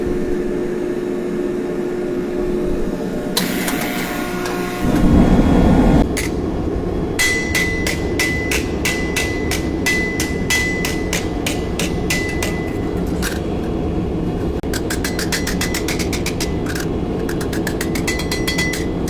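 Hammer blows on copper metal at a metal shop: a rapid, steady series of sharp ringing strikes, close and loud, with a brief burst of heavier noise early on before the rhythmic hammering continues.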